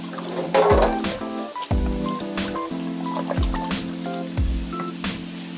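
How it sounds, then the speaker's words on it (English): Hands being washed under a running tap, with water splashing and squishing in several short bursts close by and no talk. "I'll just wash my hands now."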